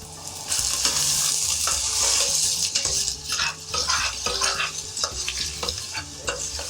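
Onions fry gently in vegetable oil in a stock pot, giving a steady close sizzle with scraping stirs and clinks of a utensil against the pot throughout.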